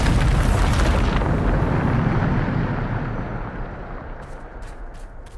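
Bombarda explosion spell cast in Hogwarts Legacy: a loud, sustained blast roar that rumbles heavily at the start and slowly fades over several seconds, with faint crackling debris near the end.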